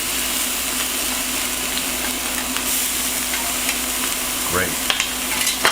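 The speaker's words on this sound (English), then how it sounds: "And we're going to stir that around." Garlic shrimp scampi being stirred quickly in a hot pan, giving a continuous close sizzle and fry hiss with scattered utensil scrapes and a brief spoken word.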